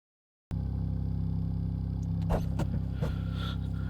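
A Super Formula Light race car idles in the pits at Algarve in iRacing, a steady close engine drone that starts abruptly, with a few sharp clicks and blips over it.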